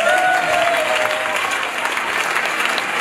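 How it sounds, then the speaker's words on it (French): Guests at a Congolese civil wedding ceremony in Troyes applaud, a steady wash of clapping with some voices and a faint tonal sound early on. "je demande que vous puissiez vous applaudir vous-même parce que vous êtes très gentil."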